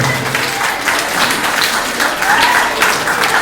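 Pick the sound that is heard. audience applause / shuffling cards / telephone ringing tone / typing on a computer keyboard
audience applause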